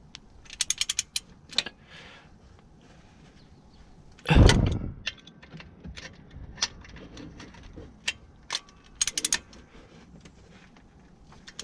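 A ratchet socket wrench clicks in quick bursts while bolts are tightened on a Mk6 Ford Fiesta ST150 engine during drive belt tensioner work, with a heavier clunk midway and scattered ratcheting afterward.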